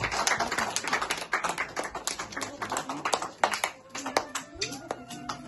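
A crowd applauds during a flower presentation at a celebration, giving a dense patter of hand claps that runs steadily throughout at moderate loudness, with a voice speaking over part of it.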